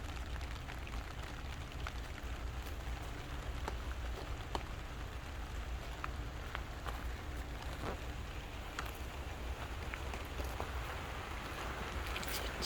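Steady rain falls outdoors as a soft, even patter with faint scattered drops, heard at a distance with no voices over it.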